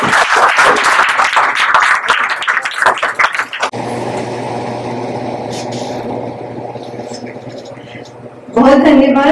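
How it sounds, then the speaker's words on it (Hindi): An audience at a Hindi-language literary gathering at the Indian consulate in Seattle claps loudly for several seconds. The clapping then cuts abruptly to a steady low hum, and a voice speaks at the end. "बहुत धन्यवाद आपकी तालियों का।"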